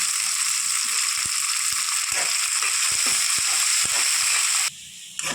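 Karchikayi, sweet North Karnataka dumplings, fry in a pan of oil with a loud, steady hiss and crackle throughout, punctuated by faint ticks of a utensil, before the sizzle suddenly drops away near the end.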